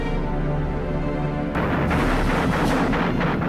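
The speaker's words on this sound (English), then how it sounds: "this huge artillery barrage came in and landed on the frontline positions" An artillery barrage of WWII Soviet guns at the Seelow Heights: a steady rumble gives way to a dense, continuous roll of booming blasts, loud and unbroken.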